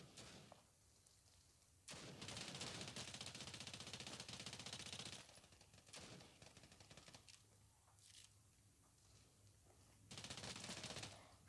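Rapid automatic gunfire from the mobile shooter game Standoff 2 comes in long, loud rattling bursts separated by quieter gaps, with a few shorter volleys between them.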